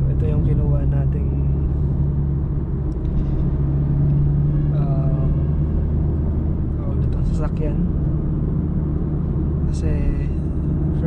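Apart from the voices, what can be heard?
Honda City 2021 manual transmission car driving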